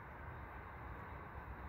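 An S-Bahn commuter train passes close by, a steady, loud rumble of wheels on rails with broadband roar that holds evenly throughout, no voices over it.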